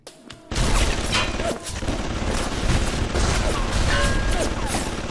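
Gunfire in the video game BioShock, a sudden loud onset of rapid, overlapping shots and crashing impacts that keeps going at high intensity, with some voice-like sounds mixed in.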